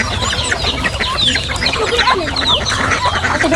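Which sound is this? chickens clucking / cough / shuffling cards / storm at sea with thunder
chickens clucking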